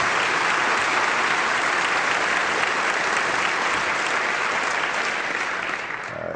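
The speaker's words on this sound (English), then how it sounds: "Can everybody please give Michael a big round of applause?" A crowd gives a big round of applause for Michael of the Chicago Public Schools at a Building with Books event with Senator Obama. The clapping is loud, dense and steady throughout, easing slightly only at the very end.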